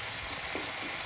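Half a cup of water hits a hot, sizzling pan during a quail egg dish, giving a short, steady hiss of spitting steam and bubbling with no talk.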